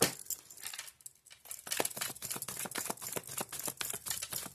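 Tarot cards shuffled by hand, a rapid series of crisp riffling snaps and flicks close to the ear after a brief pause near the start, with no talking.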